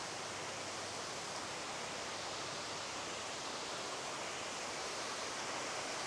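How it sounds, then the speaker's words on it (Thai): An artificial waterfall on the grounds of Wat Tako temple gives off a constant, even rush of falling water, soft and unbroken with no voices over it. "น้ำตกเงินไหลมา"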